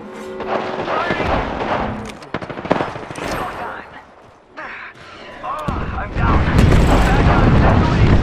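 Gunfire in Apex Legends, loud bursts of automatic shots and heavy blasts with short gaps between volleys, mixed with game effects and voices calling out.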